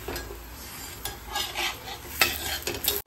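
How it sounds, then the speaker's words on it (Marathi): Spinach paratha roasting on a hot griddle, giving a close, steady sizzle with repeated spatula scrapes and clinks, and a few sharper strikes near the end. No one speaks. "बाजू भाजून घेऊया आपण आता"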